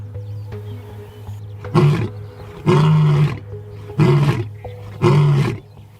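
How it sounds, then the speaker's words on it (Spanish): An old lion roars in four loud, close bursts spaced about a second apart, each a deep rasping roar over a low steady rumble, with no talk. "Ahora es solo un viejo león que vaga por las llanuras."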